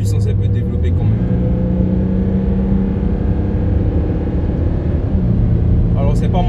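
A Range Rover HSE Sport diesel engine pulls hard on a straight road, a loud, deep steady drone with a gear change and rising pitch, heard from inside the cabin with talking over it.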